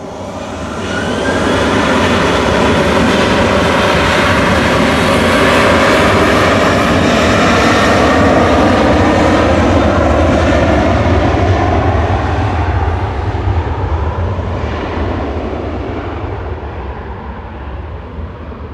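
A Boeing 737-800 jet airliner departs Manchester Airport with a loud, sustained engine roar that builds quickly, holds powerfully for many seconds and slowly begins to fade as the aircraft moves away.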